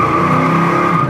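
A 1972 Chevy Nova with highway gears accelerates and shifts into second, its engine a loud, close, steady droning roar through the whole short stretch.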